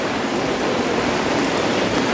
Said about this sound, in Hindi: अभी भी बहुत तगड़ी बारिश हो रही है